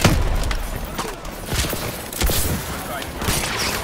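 Gunfire in the Call of Duty Advanced Warfare assault on Atlas headquarters in Baghdad 2061, with repeated bursts and booming shots under battlefield noise and intermittent radio-style talk.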